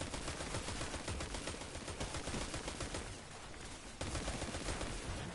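Sniper gunfire in a video game, a dense, continuous barrage of loud shots and blasts crackling without pause, dipping briefly near the end before surging back.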